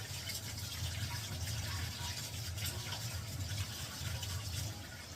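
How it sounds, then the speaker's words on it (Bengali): Hands being washed under running water at a kitchen sink during cooking, a steady continuous splashing flow that holds for several seconds, fairly close and alone without talk. "আমি একটু হাত ধুয়ে নিই"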